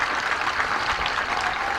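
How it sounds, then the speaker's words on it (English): Graduation ceremony applause for the salutatorian, a steady patter of many hands clapping together from a nearby crowd, continuous and moderately loud throughout. "Please give him a round of applause."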